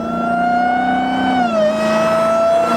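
A 707 hp Dodge Hellcat's engine revs hard past 5,000 RPM, a loud, steady high-pitched whine that dips briefly as it shifts, then climbs again, with no talking.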